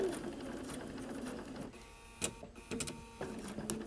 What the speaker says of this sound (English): stitch my 1/4 inch seam allowance